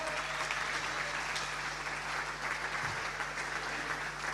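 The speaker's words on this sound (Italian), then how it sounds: "Un grande applauso per la campionessa Martina Villanova di Sport Life" An audience at a Paralympic sports gala applauds a champion swimmer with steady, dense clapping that holds at an even level throughout, over a low electrical hum.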